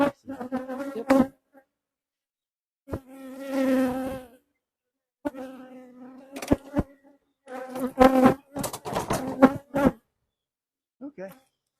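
Honey bees buzz around an opened backyard beehive during a hive check, in several close droning bursts of varying pitch separated by short pauses.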